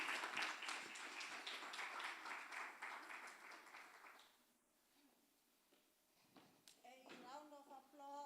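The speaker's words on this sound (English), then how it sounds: "A round of applause." An audience applauds after a campus lecture presentation, steady clapping for about four seconds that fades out, followed by someone speaking.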